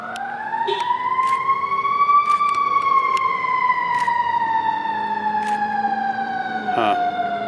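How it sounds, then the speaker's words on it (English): A wailing emergency vehicle siren sweeps slowly up and down a block away, steady and moderately loud throughout, with faint clicks and ticks over it and no talking. "Undaunted by the sirens down the block"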